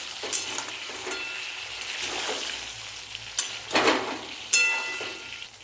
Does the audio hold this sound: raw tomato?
yes